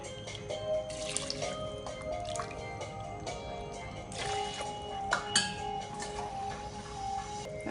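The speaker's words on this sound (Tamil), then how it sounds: "9 கப்பு தண்ணி ஊற்றிருக்கேன்" Water splashes and trickles into a cooking pot for rice porridge with wet, sloshing drips and occasional light clinks of metal, close by and fairly soft.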